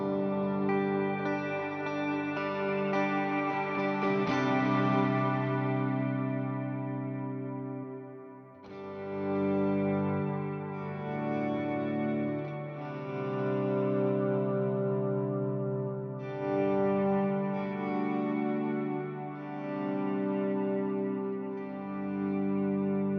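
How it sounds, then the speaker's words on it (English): Electric guitar through an HX Stomp ambient reverb: sustained chords ringing into long washed-out tails and swells, with brief breaks between phrases, loud and alone. "I have an ambient reverb ready to go. So this is the sound clip of that one."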